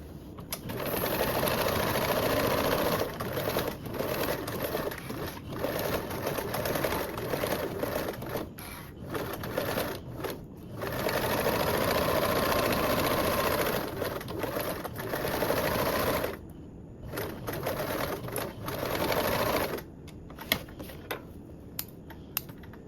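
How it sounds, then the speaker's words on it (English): Home sewing machine basting a toiletry bag panel with a narrow seam allowance, running in long close bursts of rapid stitching broken by brief pauses and a few clicks. "Now I can go around and baste this in place with a 1/8 seam allowance."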